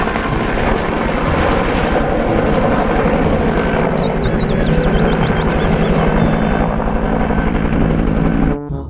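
Toy helicopter running steadily and loudly close by, a continuous whirring rotor-and-motor drone that holds for about nine seconds before cutting off abruptly at the end.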